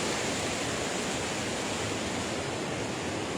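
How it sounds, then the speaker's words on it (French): Waterfall in the Jura at La Frasnée, near Clairvaux-les-Lacs, giving a steady, dense roar of rushing water that fills the whole clip without pause or voices. "c'est une des rares cascades dans le Jura où tu peux te garer, rester dans ta voiture et admirer la cascade"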